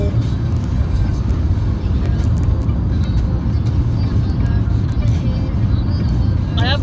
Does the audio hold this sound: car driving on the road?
yes